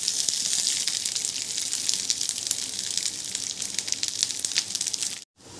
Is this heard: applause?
no